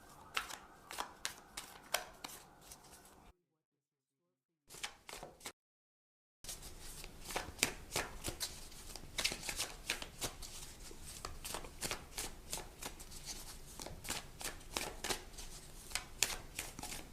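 Oracle cards being shuffled by hand in a steady run of crisp, rapid riffles and slaps, with two brief silent gaps early on, then continuous close shuffling to the end.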